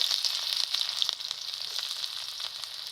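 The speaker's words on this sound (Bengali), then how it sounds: "তেল গরম হয়ে গেছে এবার একটি পেঁয়াজ কুচি দিয়ে দেব" Chopped onion dropped into hot oil in a pan for a capsicum curry, bright crackling sizzle close up, strongest at the start and settling into a steady fry.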